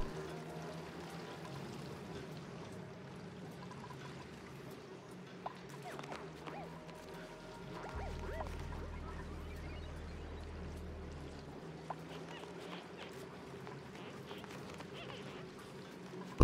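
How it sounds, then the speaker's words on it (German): Water pouring and trickling in a colony of the game Oxygen Not Included, a soft continuous flow under faint background game sounds, fairly quiet throughout. "ich lasse hier immer noch mehr Wasser reinlaufen"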